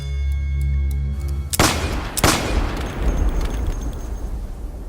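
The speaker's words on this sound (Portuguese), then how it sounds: "Num instante, sacou do peito um revólver e deu 2 tiros" Two sharp revolver gunshots ring out about half a second apart, loud and booming, breaking a steady low hum and leaving a rumbling tail.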